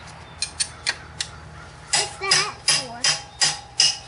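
A metal ball joint puller struck like a hammer during Ford Taurus alternator work gives a series of sharp, close taps, first light and quick, then louder ringing blows with a brief voice mixed in.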